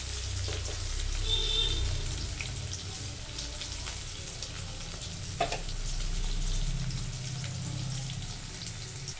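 New potatoes frying in oil in a Bengali kitchen, a steady, continuous sizzle and crackle with a few brief clinks, heard alone without talk.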